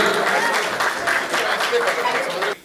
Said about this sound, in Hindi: एक बार दोनों हाथ उठाकर भरपूर तालियां दे दीजिए